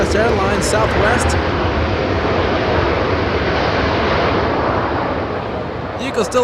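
A Southwest Airlines airliner flies in to land at Los Angeles International Airport, its loud, steady engine roar continuing throughout and easing slightly near the end, with faint talk at the edges.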